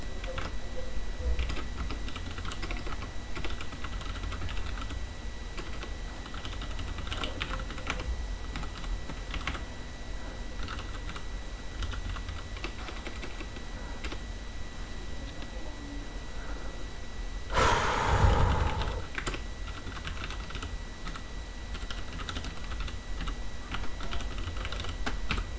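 Steady typing on a computer keyboard while entering Java code, a continuous run of close, quick key clicks with a brief louder burst of handling noise partway through.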